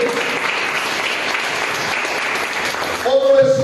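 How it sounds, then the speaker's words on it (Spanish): A church congregation applauds loudly, a dense sustained wash of clapping that swells near the end as a voice speaks over it. "Un aplauso fuerte."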